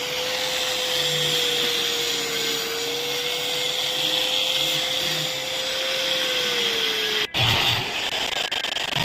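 A power polisher gives a matte finish to weld spots on a stainless steel pipe balcony railing. It makes a loud, continuous whine with a steady tone for several seconds, then cuts off abruptly and starts up again.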